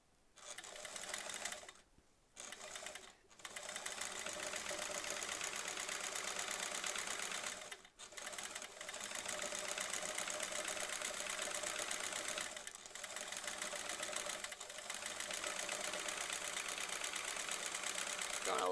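A home sewing machine running steadily during free motion quilting, loud and close with a continuous motorized whir, paused briefly a few times, then resuming for long stretches.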